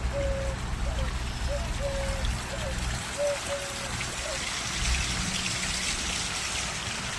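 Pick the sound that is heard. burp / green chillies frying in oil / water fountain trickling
water fountain trickling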